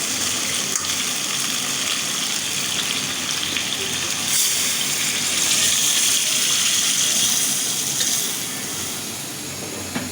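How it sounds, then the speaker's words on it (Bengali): Water is poured steadily into a pot of country chicken curry broth, a continuous gushing splash lasting several seconds at close range, with no one speaking. "এখন আমি ঝোলের পানিটা দিয়ে দেবো"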